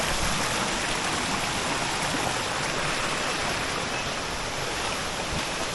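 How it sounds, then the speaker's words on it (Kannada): A waterfall at Somavathi Falls on the Bammikonda trek runs heavy with monsoon water, a dense, continuous roar of rushing water, close and loud, with no voices. "ನೋಡಿ ಇದೊಂದು ರನ್ನಿಂಗ್ ವಾಟರ್ ಫಾಲ್ಸ್."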